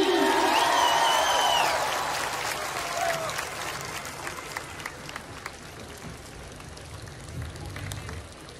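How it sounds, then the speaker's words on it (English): Loud crowd applause and cheering at a Maha Shivaratri stage event fills the opening seconds, with whoops rising above the clapping, then settles into a steady, softer wash of clapping that carries on to the end. "let's have a loud round of applause"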